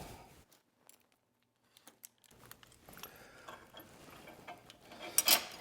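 Bolts threaded by hand into a radiator frame and relay bracket on a Yamaha T7 motorcycle, with small metallic clicks and light scraping of metal parts. The sounds are sparse at first, then busier, ending in a short brighter rattle.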